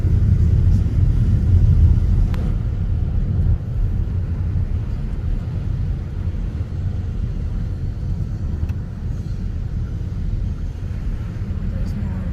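Road traffic at a roundabout in Leeds, heard from inside a car during a driving lesson, a steady low rumble of engines and tyres that never lets up.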